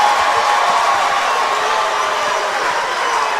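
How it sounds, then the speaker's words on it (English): A crowd roaring and cheering at an MMA fight during the main event, a dense continuous wash of noise that stays loud and steady throughout. "It's the loudest the crowd has been all night."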